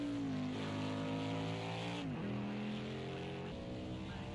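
A stock car engine in a racing game drones steadily at Watkins Glen International, its pitch dropping sharply on a downshift into a corner before settling again, loud and continuous with no talking.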